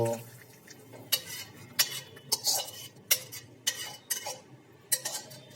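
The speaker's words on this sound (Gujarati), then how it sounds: "હવે આપણે જે દેશી ઘીની અંદર શેકીને તૈયાર કરેલો લોટ છે તેની અંદર ઉમેરી દઈશું" Sugar syrup being stirred into ghee-roasted flour in a metal pot, a spoon knocking and scraping against the sides in irregular sharp clinks, roughly a dozen strokes, close and fairly quiet.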